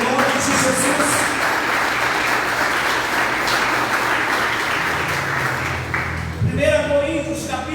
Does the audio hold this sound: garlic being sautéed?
no